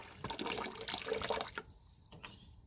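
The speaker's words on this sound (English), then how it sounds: "Filling a bucket with hot water." Hot water from a tap runs hard into a bucket, a loud gushing rush that stops after about a second and a half, leaving a few soft drips and faint trickles.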